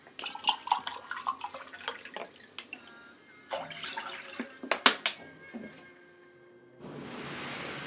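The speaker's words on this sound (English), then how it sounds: "So here I add totally 2 cup water." Water trickles and splashes intermittently into a vessel, with scattered drips and pours, then a steadier rushing flow near the end.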